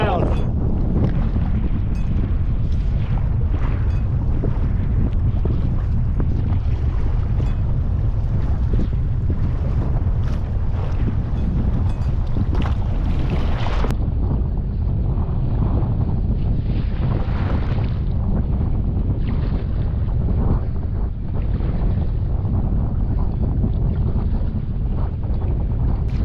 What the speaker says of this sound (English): Freaking swells are huge, and it's choppy as hell.